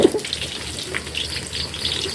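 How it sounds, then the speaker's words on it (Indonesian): Tempeh fries in a pan in a home kitchen with a steady close sizzle and crackle that holds all the way through, and no voices over it. "pindah lagi ke bagian saya ini goreng tempe bunda"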